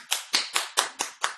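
Six separate hand claps at a steady pace, close and fairly quiet, as a small audience applauds at the end of a seminar session on violence.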